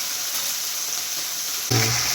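Small, freshly caught fish frying in a pan with a steady hiss that swells louder near the end, likely as the fish is turned.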